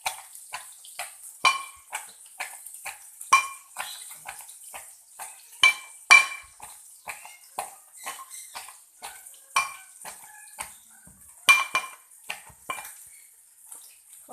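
Ingredients pounded in a mortar for an Assamese dish: a series of sharp, hollow knocks at an irregular pace, some louder than others, close and fairly quiet against a silent background.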